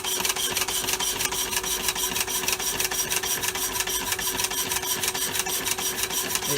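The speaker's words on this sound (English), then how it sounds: "So we're up on the shaper and we're just squaring up" An Elliott 10M metal shaper squares up a cast iron workpiece, giving a loud, steady, fast mechanical clatter with a continuous droning hum underneath.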